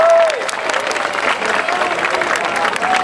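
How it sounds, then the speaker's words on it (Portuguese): Applause fills the room from a crowd at an Anime Friends anime convention concert, a dense, steady wash of clapping with some cheering that holds for about three seconds, while a sustained tone sounds faintly through it. "Palmas de novo pra eles,"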